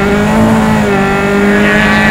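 Single-seater race cars at Mid-Ohio roar past in a loud, steady engine drone with a sustained tonal whine, close and continuous.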